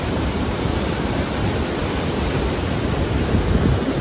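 River water crashing hard through the Koshi barrage in Nepal during a rise in water level, a dense, loud, unbroken roar filling the whole clip with no pauses.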